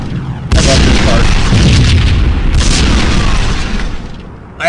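Missiles explode in the Max Payne video game, a loud, sustained booming rumble that swells suddenly, carries a second burst partway through, then fades before another hit lands at the end.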